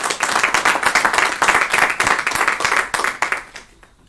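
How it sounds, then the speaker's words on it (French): Applause at a municipal council meeting in a hall, many hands clapping steadily and fairly loud for about three and a half seconds before fading out. "on peut aussi les applaudir"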